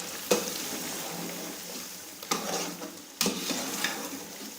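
Crushed garlic is stirred through a sizzling pan for beef dum biryani, a steady frying hiss broken by three sharp scraping sweeps of a spoon against the pan.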